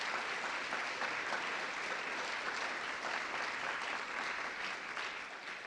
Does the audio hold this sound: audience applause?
yes